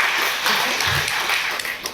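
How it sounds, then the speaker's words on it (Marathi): An audience at a gathering of a human rights organization claps together in a steady, fairly thin patter for two seconds, with no single claps standing out. "सर्वांनी स्वतःसाठी टाळ्या वाजवा, अगदी जोरदार."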